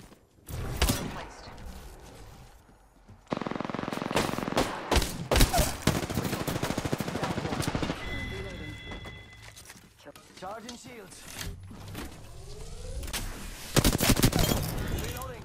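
Gunfire in Apex Legends, repeated loud bursts and single sharp shots of varying distance through a busy firefight, with voices talking over it.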